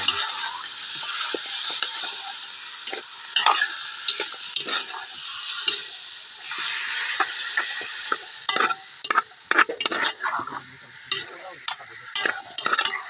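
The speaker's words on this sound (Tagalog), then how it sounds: "Saka hahaluin." A dish being stirred while it fries in a pan: bright continuous sizzling with frequent sharp scraping and clacking strokes of a utensil against the pan, close and fairly loud.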